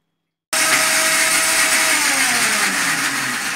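A blender whirs loudly into life after a short silence, churning cookies with a splash of milk, a steady high motor roar with a pitch that slowly sags as the mixture thickens, no voices.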